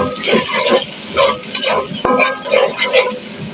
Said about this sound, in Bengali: পেঁয়াজটা ভাজা হয়ে আসছে।